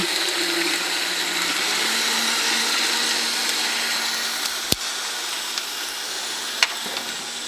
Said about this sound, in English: We're gonna puree all that together.